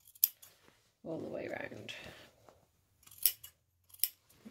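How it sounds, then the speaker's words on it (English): Scissors snip through fabric at the sewn brim of a beginner's sun hat, trimming close to the stitching in a few sharp, close cuts, with a stretch of soft speech between the snips. "you want to take your scissors and trim up to the stitching once more"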